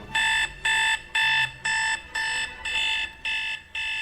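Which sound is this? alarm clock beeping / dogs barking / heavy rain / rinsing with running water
alarm clock beeping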